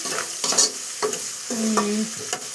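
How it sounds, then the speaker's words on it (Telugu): Food sizzles and cooks in a pan, giving a steady close frying hiss broken by soft stirring scrapes and a brief tonal hum, with no voices. "ఉడుకుతుంది"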